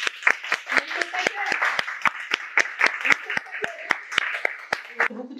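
An audience at a conflict workshop in Paris claps together in a brisk, steady round of applause, close and lively, lasting several seconds before tapering off.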